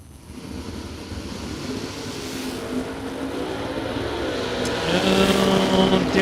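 Drag race cars, including a Ford Maverick, launch down the strip at a Superbucks bracket event, a loud continuous engine roar that builds steadily and grows louder toward the end, with no voices over it.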